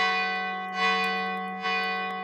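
A large bell is struck by a town leader, ringing out loud and sustained with a rich metallic tone, two fresh strikes renewing the clang as it hums on.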